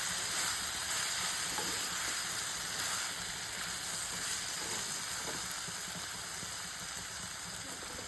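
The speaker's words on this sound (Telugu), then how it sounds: "మనము ఈ బీరకాయ ముక్కలు టమోటా ముక్కలు ఉడికేంత వరకు మనం వేయించుకుందాం" Ridge gourd and tomato pieces frying steadily in a pan over low heat, a continuous soft sizzle and hiss throughout with occasional faint stirring, no voices.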